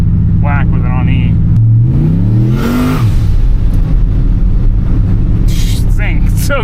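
Turbo LS street truck running ethanol blend at full throttle, engine rising in pitch in a short rapid sweep before backing off, with people talking over and around it inside the cab.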